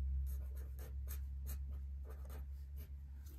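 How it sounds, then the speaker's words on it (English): A purple chisel-tip highlighter pen writes on paper with close, soft scratchy strokes in a steady rhythm over a low background hum. "this one is a purple pen, purple texter. So that's if I write that way."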